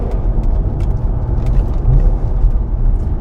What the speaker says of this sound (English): There's plenty of road noise and tire noise though with this thing.